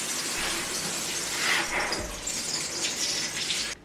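Shower water pours steadily into a bathtub at home, a continuous close hiss and splash with no talking, ending abruptly.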